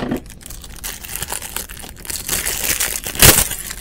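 Pieces from a Temu order being cut free, with close crinkling and tearing of plastic or paper and a loud snipping crunch near the end, no voices.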